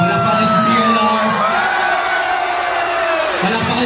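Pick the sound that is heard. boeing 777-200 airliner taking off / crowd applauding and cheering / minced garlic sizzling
crowd applauding and cheering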